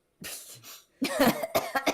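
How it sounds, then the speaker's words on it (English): A short bout of coughing: one muffled cough, a brief pause, then several quick harsh coughs in a row, close and fairly loud. "We just have suspicious coughing fits."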